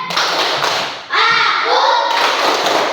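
A classroom of children claps out the rhythmic 'tepuk anak soleh' chant, a loud run of sharp hand claps broken by a short pause, with young voices chanting along.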